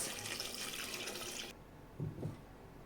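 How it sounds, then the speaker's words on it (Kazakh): Water streams steadily into a pot for a moment, then stops, followed by a couple of soft clunks nearby. "Осыған суымызды құямыз."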